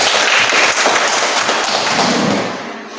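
Classroom audience applause for a student group fills the space with dense, steady clapping throughout, fading slightly at the end.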